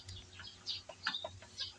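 Backyard chickens cluck and call faintly at a distance in a quiet yard, a few scattered short calls with no one speaking.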